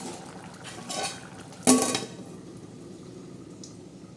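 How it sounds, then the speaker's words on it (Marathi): A metal lid set on a cooking pot of jaggery sweet rice on low gas, giving one sharp close clang after some soft clinks, then a quiet background of faint cooking noise. "आता मी कमी गॅस करून ठेवते झाकण"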